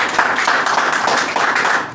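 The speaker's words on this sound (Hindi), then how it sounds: "भाई के लिए एक बार तालियां हो जाए ज़ोरदार।" Loud, dense applause from an audience at an open mic poetry event, steady clapping throughout the short burst with no talk over it.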